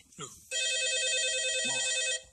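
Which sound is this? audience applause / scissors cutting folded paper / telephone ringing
telephone ringing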